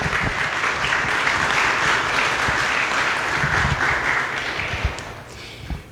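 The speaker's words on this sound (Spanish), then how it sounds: "Les pido un aplauso, por favor" Audience applause at a cultural talk event honoring an artist, a steady, dense wash of clapping from a sizable crowd that holds evenly for about six seconds before thinning at the end.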